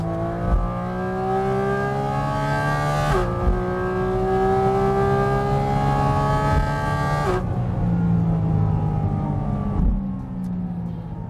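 A Porsche GT4 RS takes a corner at about 50 km/h, its engine note loud and close for roughly eleven seconds, with sustained tones that dip and recover around shifts and throttle lifts.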